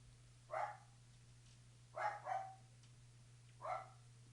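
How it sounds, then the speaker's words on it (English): A pet dog barking indoors, three short separate bark bursts at intervals, the middle one doubled, faint and somewhat distant over a low steady hum. "My dog's barking up a storm"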